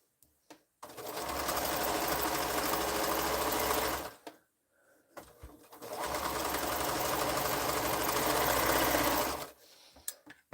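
Sewing machine stitching quilt fabric, two long steady runs of fast whirring needle motor, each about four seconds, close and loud, separated by a short pause with faint handling.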